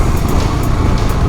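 A motorcycle fitted with an RK performance chain and sprockets accelerates hard from 0 to 100 km/h, its engine a loud, continuous roar blended with rushing wind noise.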